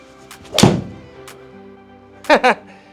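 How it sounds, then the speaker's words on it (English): On a golf course, a club strikes the ball for the second shot on a par 5, making one sharp, solid thunk up close. A brief voice follows shortly after. "Oh, nice shot, Al."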